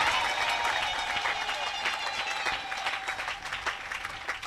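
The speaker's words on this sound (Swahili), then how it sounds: "Mpe Mungu makofi na utukufu." A church congregation at a bishop's address for a college launch claps together, steady dense applause with rising and falling surges and some crowd noise underneath, moderately loud and continuous throughout.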